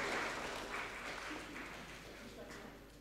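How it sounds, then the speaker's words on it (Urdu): Audience at an international mushaira poetry gathering in Pune breaks into applause for an honoured poet, a dense wash of clapping that starts strong and slowly fades. "زوردار تالیاں ہو جائیں"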